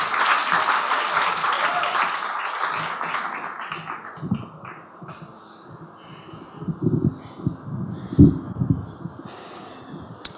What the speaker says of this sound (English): let's give a big applause to Haji Basim